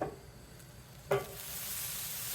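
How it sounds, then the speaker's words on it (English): Butter hits a hot pan for carne asada with a sharp crackle, then settles into a steady, bright sizzle that fills the rest of the moment, close and fairly loud with no voices. "So let me go ahead and throw the butter in here."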